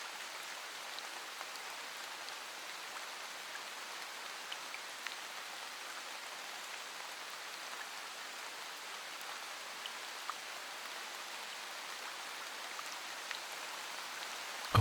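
Steady rain falls from a small rain cloud over summer Scotland, a soft even patter of drops covering everything with no pauses, close and gentle, alone without voices.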